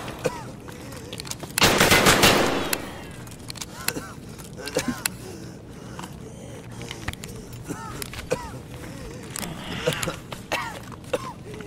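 Gunfire in the video game Escape from Tarkov on the Factory map: a loud rapid burst of automatic fire early on, then scattered sharper single shots and clicks at lower level, with a second burst near the end.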